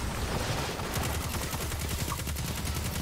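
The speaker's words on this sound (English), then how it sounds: "I'm shooting him in the head." Rapid, dense gunfire from the shooter video game Paladins rattles continuously at close range, with a sustained stream of shots and no voices over it.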